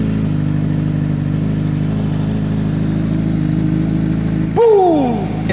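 A Suzuki GSX-R600 motorcycle fresh from a spark plug change cranks under a steady whirring hum, then catches and fires up with a sudden rising-and-falling rev near the end.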